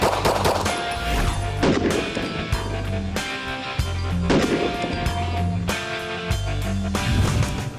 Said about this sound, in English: It's amazing when you shoot a non-polymer gun at a 1911 how flat it shoots.